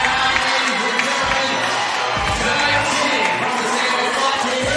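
Boxing crowd at a Jye Chin versus Ryan Daye fight, loud and continuous cheering and whooping from a packed venue, dense and roaring throughout with no clear speech.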